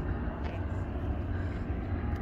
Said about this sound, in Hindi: वो देखें हेलीकॉप्टर ऊपर चल रहे हैं, लोगों को सैरे करवा रहे हैं।